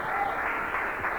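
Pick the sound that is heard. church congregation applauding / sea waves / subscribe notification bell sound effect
church congregation applauding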